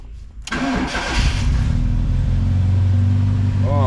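A Fiat X1/9 engine with a freshly rebuilt carburettor cranks briefly, catches and fires, then settles into a steady, loud, close idle that continues to the end.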